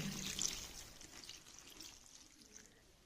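A glass of water is poured into a South Indian greens curry cooking with coriander, ginger and garlic, a close, steady splashing pour that is loudest at the start and tapers into a soft trickle.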